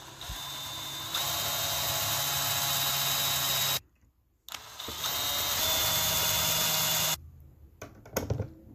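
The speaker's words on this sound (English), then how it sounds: "then we're going to go ahead and drill the holes" Power drill boring screw holes for furniture legs, two long whirring bursts of steady high-pitched motor whine separated by a brief silence, close and loud, ending with small clunks.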